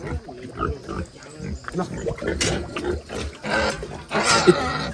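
A pig gives repeated low grunts close by, mixed with people talking and some rustling and knocking noises, amid what sounds like a rural farmyard.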